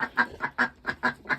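Ducks at a chicken house giving a rapid series of about seven nasal quacks in an even, bouncy rhythm, close and clear with no talk.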